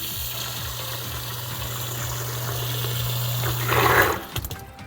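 Water draining from a basement drainage liner beside a sump pump, a steady low flow with a humming tone that rises into a gushing swell near the end.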